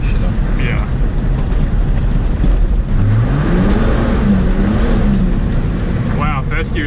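A Ford AU Falcon pulls hard in first gear on a winding mountain road, its engine note rising steadily under continuous loud road and wind roar, with people talking inside the car.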